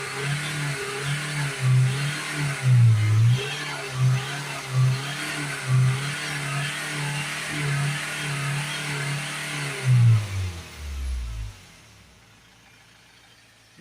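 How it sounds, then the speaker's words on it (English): Ford Transit MK7 2.2 diesel engine running close by with a DPF fault, a throbbing rumble with repeated rev surges before it shuts off near the end into quiet. "we can pour the second bottle in while the engine's running."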